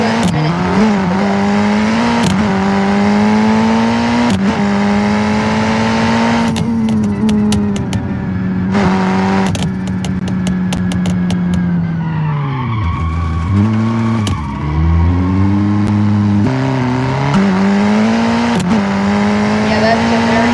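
A Cherrier Vivace rally asphalt car in BeamNG.Drive revs hard, its loud engine tone rising and dropping through gear changes, with tire squeal and skidding midway and brief pauses in throttle.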